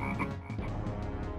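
A frog croaks loudly and close by in a rapid, rattling series of throaty croaks, with nothing else heard.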